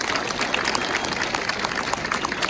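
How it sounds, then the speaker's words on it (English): A crowd at an 8th grade graduation ceremony claps steadily in dense, sustained applause for teachers and staff that fills the space from start to finish. "let's give these teachers and support staff a round of applause as well"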